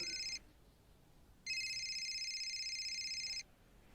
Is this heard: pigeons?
no